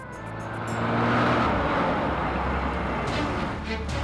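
A car speeds along with a steady, loud rushing engine and road roar, close and continuous for several seconds.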